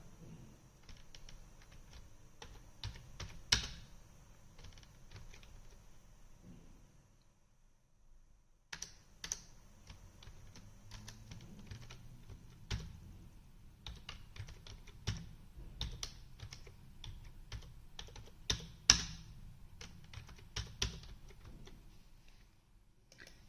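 Someone types on a computer keyboard while entering text into an Excel spreadsheet cell, producing quiet, irregular keystroke clicks in bursts with a short pause partway through.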